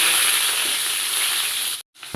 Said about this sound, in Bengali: তেলটা গরম হয়ে গেলে তারপরে পাঁচফোড়ন দিয়ে কেটে রাখা আমগুলো দিয়ে দিতে হবে